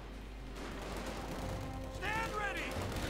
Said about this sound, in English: Bit of shooting there going on.